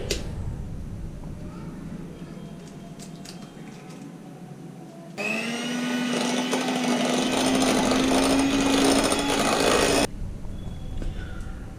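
A kitchen blender whirs loudly for about five seconds while blending castor sugar with other baking ingredients, a steady high motor drone that starts abruptly and cuts off cleanly, with quieter room noise before and after.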